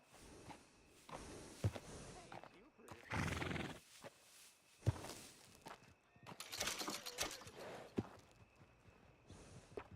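Horses in the game Red Dead Redemption 2, with whinnies and snorts alongside scattered hoof clops, under intermittent talk and game sound effects.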